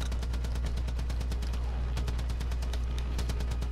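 Rapid automatic gunfire in Far Cry 5, a dense stream of repeated shots running the whole time at steady loudness over a low engine drone.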